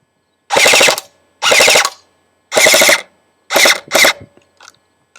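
An airsoft gun fitted with a Matrix Magnum 3000 motor fires full auto in five loud, close bursts of rapid buzzing shots separated by short pauses, with a few faint clicks at the end and no talk.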